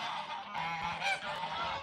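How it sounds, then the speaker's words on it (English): Geese honking loudly and close at a countryside centre, a continuous overlapping chorus of harsh honks over a couple of seconds. "The geese are so noisy at the moment."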